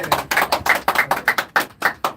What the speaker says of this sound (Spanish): recuerde el aplauso